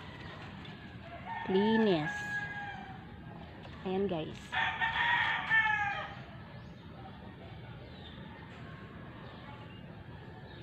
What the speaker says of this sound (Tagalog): Diyan banda yung kanyang mga manok.